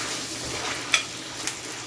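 A sprig of thyme drops into a hot pan over medium flame and crackles in a soft, steady sizzle, with a couple of sharp little pops in the brief close-up, no talking.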